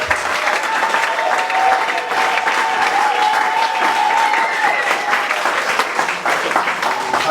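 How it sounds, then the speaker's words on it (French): A church congregation applauds loudly to acclaim Jesus, sustained close clapping with crowd voices and a held tone running beneath for several seconds. "on acclame Jésus."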